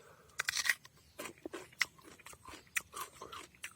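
Crunchy unripe ambarella fruit (Spondias) bitten and chewed up close, giving a run of sharp, irregular crisp crunches with short pauses between bites and no talking.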